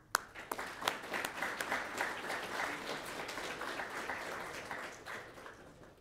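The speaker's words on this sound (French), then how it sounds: "on va les applaudir pour les encourager et venir jusqu'à nous" An audience at a cybersecurity capture-the-flag competition event applauds students, sustained dense clapping steady for several seconds with a few sharper individual claps standing out, no talking.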